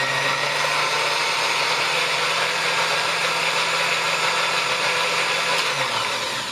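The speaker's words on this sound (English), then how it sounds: "Just gonna blend this up to a nice liquid." A blender whirs steadily at high speed for several seconds, blending sauce for fish tacos, a loud continuous motor whine that drops in pitch near the end.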